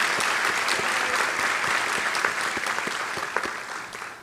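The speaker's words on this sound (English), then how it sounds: "We'll clap." Graduation ceremony audience claps steadily and densely throughout, a broad wash of many hands that fades slightly toward the end.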